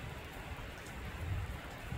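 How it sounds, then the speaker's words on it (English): Heavy rain pouring down non-stop, a dense, even hiss of falling drops with a low rumbling undertone, steady and unbroken throughout the short stretch. "It's been about 24 hours since the rain started. And it has been raining non-stop."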